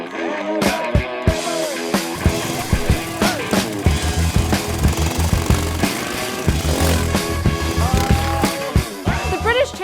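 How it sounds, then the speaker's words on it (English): Racing lawnmower engines at a British Championship meeting, buzzing and revving loudly and continuously with rising and falling pitch as machines pass close by, punctuated by sharp bursts. "Lawnmower racing season is in full swing."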